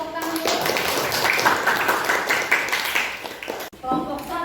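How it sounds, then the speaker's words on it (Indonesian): A classroom of students claps for a group that has just finished presenting, dense broadband applause running steadily for several seconds before cutting off abruptly, with faint voices and room noise after. "Beri tepuk tangan dulu."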